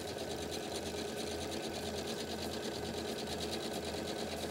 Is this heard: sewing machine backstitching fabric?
yes